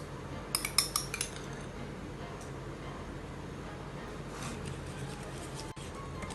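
A spoon mixes tomato sauce and chili sauce in a bowl, opening with a quick run of bright metallic clinks and then settling into soft, faint stirring.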